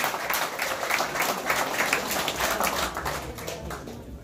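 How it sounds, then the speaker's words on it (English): An awards-event audience claps warmly for the chairwoman, a dense, moderately distant round of applause that holds steady and then gently tapers off. "let's give it another round of applause for our chairwoman"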